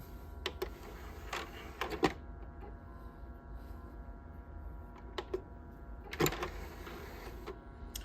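An original Xbox disc tray, newly fitted with a replacement belt, slides open and closed with faint motorized whirring and soft mechanical clicks and clunks at each end of travel, quiet and close in a still room.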